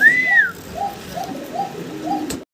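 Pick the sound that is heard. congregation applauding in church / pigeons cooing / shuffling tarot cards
pigeons cooing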